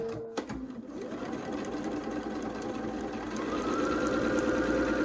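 A sewing machine stitches quilt blocks with a steady, close, continuous whir that starts after a brief click and speeds up slightly toward the end.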